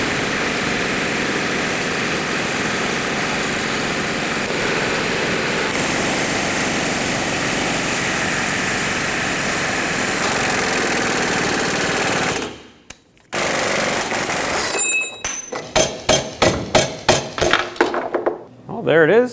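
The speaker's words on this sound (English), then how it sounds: "There it is, the bushing is pressed in." A press forces a lower control arm bushing into a 2003-2012 Chevrolet Colorado arm, a long steady mechanical roar that cuts off abruptly, followed by a string of sharp, uneven bursts and clatters.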